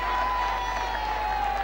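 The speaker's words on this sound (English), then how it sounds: "And hear those cheers" A crowd along the route of Queen Elizabeth and Prince Philip's royal silver wedding procession gives steady, distant cheering and applause, under a constant hum.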